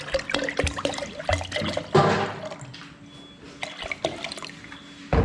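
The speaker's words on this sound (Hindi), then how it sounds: "मैं पानी डालूंगा।" Water is poured in a home kitchen while lassi and butter are being made, with splashing and trickling, some sharp clatters and a brief louder gush, moderately close with no voices.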